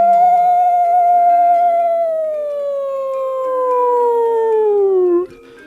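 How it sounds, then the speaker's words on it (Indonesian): A single long, loud forest wolf howl holds a steady pitch and then slides slowly downward before cutting off, heard alone without talk. "Perjalanan pedati itu dikejutkan dengan suara lolongan serigala hutan"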